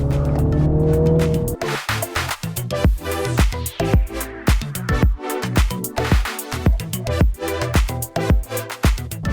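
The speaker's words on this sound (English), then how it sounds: "It's a 2-litre turbocharged 4-cylinder inline, pumping out some 302 brake horsepower, 450 Newton meters of torque" A MINI John Cooper Works Clubman with a 2-litre turbocharged inline four drives hard. A loud engine note rises and falls under repeated sharp bursts of tire noise and clatter, all close and continuous.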